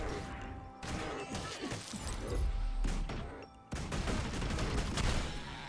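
The Guild Wars 2 thief's steal ability, used on a stag, brings a burst of sharp impacts and crackling hits. Bursts of noise come in clusters with short gaps, moderately loud.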